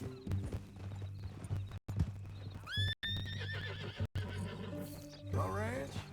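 Horse in the video game Red Dead Redemption 2, with several neighs and whinnies rising and falling over clip-clop hooves and a low steady hum. Game-world characters talk throughout, and the sound cuts out briefly a few times.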